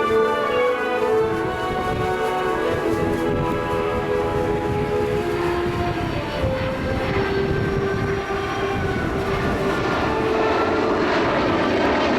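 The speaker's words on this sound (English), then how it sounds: "He's going to configure the aircraft for a slow flyby." A propeller aircraft drones steadily overhead in a slow flyby at an air show with gear down, its engine tone loud and continuous, with a slight pitch shift as it passes.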